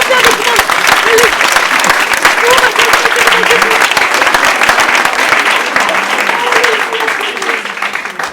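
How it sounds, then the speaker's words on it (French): A live show audience claps loudly and continuously for a volunteer called up on stage, dense applause holding steady throughout while a voice talks over it. "Allez, on l'applaudit bien fort"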